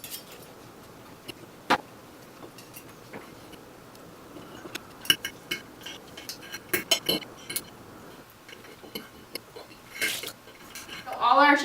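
Sparse clinks and taps of utensils against a dish while shredding rotisserie chicken, irregular and light, with scraping between, growing busier toward the end.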